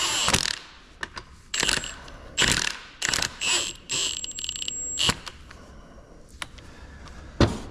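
A ratchet wrench clicks in short bursts while differential bolts on a Nismo GT Pro unit for a 350Z/370Z are torqued down. Sharp metallic ratcheting comes in several separate runs with brief pauses and occasional knocks, close and loud.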